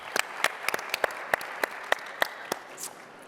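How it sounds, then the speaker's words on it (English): Sparse audience applause for a conference host at a real estate tech event, a few distinct claps spaced out at a steady pace, fairly faint and alone with no talk over it. "Big, huge round of applause for our host,"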